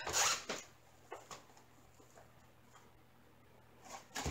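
Tape rips off a roll in short, raspy pulls, one loud burst at the start and another near the end, with faint small ticks in a quiet room between them.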